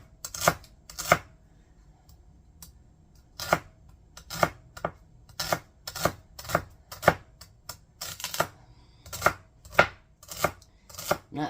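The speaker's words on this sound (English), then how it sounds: "I'm going to need some celery. So I'm just going to chop that up" A knife chops celery thinly on a cutting board in crisp, close, irregular strikes, single cuts and quick bursts spaced across a quiet background.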